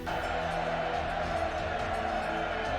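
Soldiers cheer as a battle starts in the video game Fate/Grand Order. A dense, steady crowd roar goes on without a break, loud and continuous throughout.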